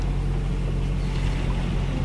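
A sailboat motoring under engine at sea off the south of Meganisi island, Greece, giving a steady, loud drone with low engine rumble and broad water and wind noise throughout.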